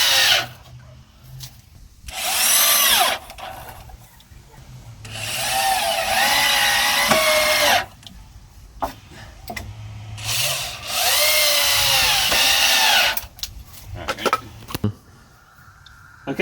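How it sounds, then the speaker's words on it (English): A power drill drives screws into a wooden board of a firewood storage rack, with several loud, sustained whirring runs separated by short pauses and clicks of handling, close up and without speech. "I've got 2 screws there attaching this board here, and 2 screws here attaching that there"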